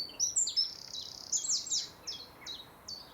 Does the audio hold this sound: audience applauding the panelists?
no